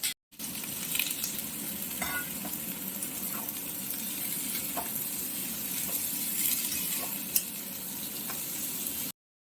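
Chopped bitter gourd and potato fry in oil with onion in a pan, producing a continuous close sizzle broken by occasional light clicks and scrapes from stirring.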